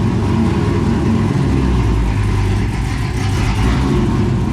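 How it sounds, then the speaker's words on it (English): Loud, lowered Corvette with a cammed engine rumbling steadily at low speed as it creeps up onto homemade ramps, a dense continuous low-end drone with slight revving swells and no talk. "Just gotta get it up on some homemade ramps here."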